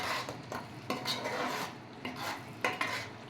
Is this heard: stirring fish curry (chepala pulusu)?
yes